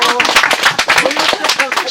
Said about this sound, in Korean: 박수 한번 듭시다.